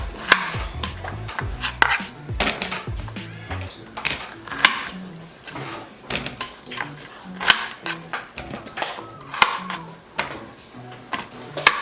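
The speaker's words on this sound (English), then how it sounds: "And then just cut them in half." A knife cuts vegetables in half on a cutting board while caldo de res is being made, giving repeated sharp, close chopping knocks at an uneven rhythm, with a few soft clinks in between.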